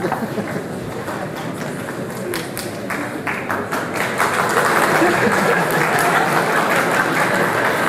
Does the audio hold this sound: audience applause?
yes